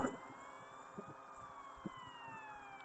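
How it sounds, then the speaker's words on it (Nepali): An ambulance siren wails as it passes along a street in Romania on a clear, freezing winter day, its steady falling tone faint and distant over low traffic rumble. "होइन एम्बुलेन्स लगिरहेको छ"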